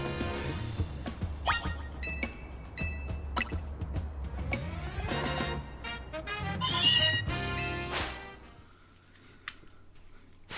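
Repeated Meowth Pokémon cries in Pokémon Legends Z-A, a series of bright, cat-like meows layered over game music and effects, fairly loud and rhythmic before the sounds fade toward the end.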